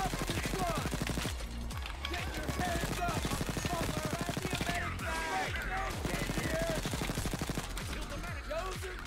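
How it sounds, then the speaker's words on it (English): A Bulldozer enemy in Payday 2 fires a minigun, a loud, continuous rapid rattle of gunfire that runs through the whole stretch with only brief dips in intensity. "That's a mini gun dozer."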